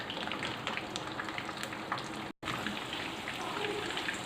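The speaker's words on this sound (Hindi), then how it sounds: "अब इस चिकन को हम इस ऑयल में डाल रहे हैं" Chicken fries in hot oil in a karahi, a dense crackling sizzle like rain on a surface, steady and moderately loud with a brief cutout midway.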